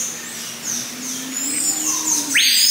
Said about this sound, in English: Look at all the birds all just up there.